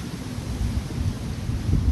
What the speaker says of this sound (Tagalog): may bagyo